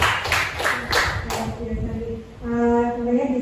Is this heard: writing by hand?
no